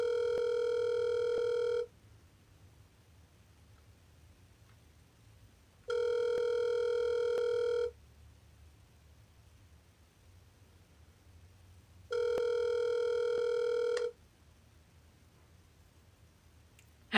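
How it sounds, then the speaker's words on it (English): A forwarded telephone call rings out as three evenly spaced ringback tones, each about two seconds long, with roughly four seconds of faint line hiss between them. "Your call has been forwarded to an automated..."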